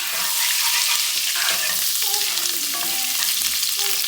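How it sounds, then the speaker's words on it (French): Butter melts in a hot pan with a steady, close sizzle and crackle, broken by a few light clinks of stirring and no talk. "On attend bien que le beurre fonde bien."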